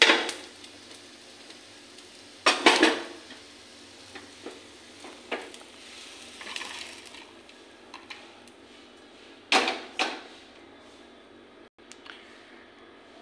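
Fried brinjal with fish roe is scraped from a pan into a bowl, giving scattered clinks, knocks and short scraping bursts over a faint background sizzle.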